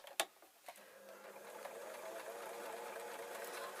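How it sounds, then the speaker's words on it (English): A sewing machine stitches fleece fabric for a sleeping top; a few light taps come first, then a soft, steady mechanical whir runs quietly close by. "the excess of fabric that I was worried about, and I can just sew this"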